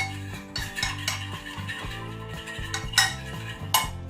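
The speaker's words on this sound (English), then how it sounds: "with a fork, what we're going to do is just get that all mixed in to the oil" Metal fork clinks and scrapes against a pan, stirring smoked paprika into oil, with repeated rhythmic taps and a couple of sharper knocks, close and clear.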